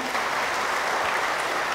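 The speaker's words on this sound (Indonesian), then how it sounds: "Kita tepuk tangan dulu untuk Ibu yang bertanya." An audience at a health talk show gives a short round of applause, a steady wash of many hands clapping at moderate distance with no speech over it.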